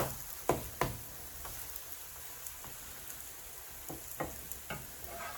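Wartime pancakes made with flour sizzle quietly in a pan, a soft, steady frying hiss broken by a few sharp crackles and spits, close by and with nobody speaking.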